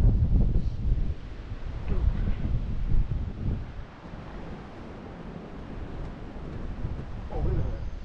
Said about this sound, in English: wind is freezing